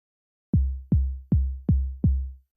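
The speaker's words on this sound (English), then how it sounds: "And here's that same kick with sweep." Five kick drums from a Bastl Pizza Crust drum module with the pitch sweep engaged, each hit dropping quickly from a higher click into a deep booming tail, played in an even rhythm with nothing else audible.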